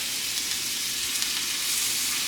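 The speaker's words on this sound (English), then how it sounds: "Let that sizzle for a minute." Steady, hissing sizzle of a smash burger patty frying in a hot pan, close and constant, with no voices.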